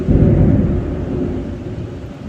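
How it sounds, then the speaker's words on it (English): Heavy thunder from a wicked storm rolls in a deep, loud, sustained rumble that slowly fades a little, with no voices. "We are getting hammered right now by a wicked storm."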